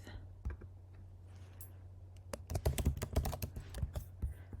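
Keys clacking on a computer keyboard, a few sparse taps at first and then a quick, busy run of typing, close and fairly soft over a low steady hum.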